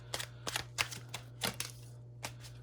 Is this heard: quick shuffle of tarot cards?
yes